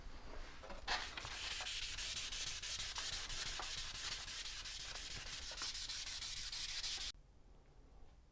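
Close, continuous rhythmic rubbing of 1000-grit sandpaper across Datsun stainless steel trim, quick even strokes for about six seconds before stopping into near quiet.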